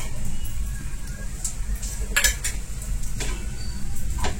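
Garlic fried rice with salt is stirred in a pan: repeated scraping and clinks of a utensil against metal over a low, steady sizzle, close by.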